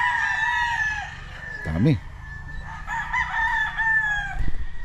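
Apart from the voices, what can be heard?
young gamecock stags crowing, Ewin Game Farm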